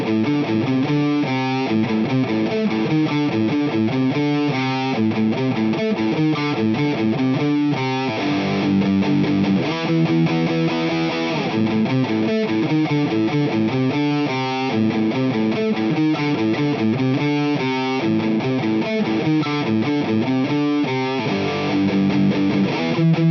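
Distorted electric guitar chugs through the verse riff of a song, a steady, driving pattern of palm-muted and ringing chords played alone for over twenty seconds.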